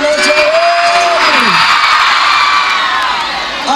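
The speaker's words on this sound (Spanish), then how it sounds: "el grito de las mujeres enamoradas esta noche" A crowd of women at an outdoor cumbia concert in a plaza screams loudly and continuously, high shrieks and cheers blending into a sustained roar that eases slightly at the end.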